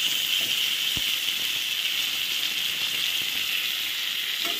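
Chopped tomatoes hit a pan of already fried potatoes and pointed gourd, giving a steady, close sizzling hiss throughout with one soft clunk early on.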